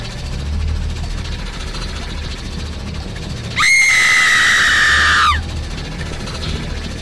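Shrill, piercing scream-like wail from Project First Contact, rising suddenly after a lift ride and holding loud for about two seconds over low ambient droning before cutting off.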